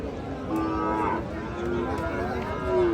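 Sahiwal bulls at a cattle market in Raniganj give long low moos, several drawn-out calls overlapping in a steady crowded din with no clear speech.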